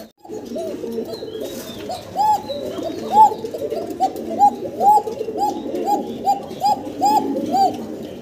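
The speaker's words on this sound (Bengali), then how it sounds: "মাশাআল্লাহ, ককার ডাক শুনতে পারলেন দর্শক আপনারা" Pigeons coo in a steady run of repeated soft, rounded calls, close and clear, several overlapping in quick rhythm with no voices.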